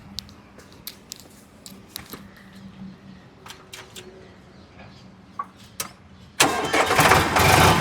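Scattered clicks and faint taps give way to a loud Sonalika 745 tractor engine suddenly starting, then roaring steadily close by.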